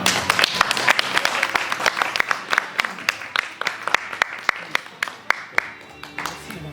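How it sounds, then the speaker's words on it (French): A small group applauds newlyweds at a civil wedding in a town hall, with sharp individual claps standing out over a steady patter that gradually thins over several seconds, heard close and fairly loud. "On peut les applaudir."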